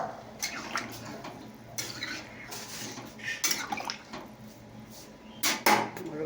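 Water is poured into a cooking pot over browned, simmered curry, with pouring and splashing mixed with clinking of metal pots and utensils, close and moderately loud in short bursts.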